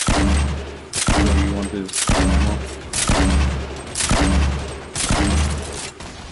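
Gunfire in the video game Fortnite, six heavy, evenly spaced booming shots roughly one per second, loud and close, with someone speaking briefly between them.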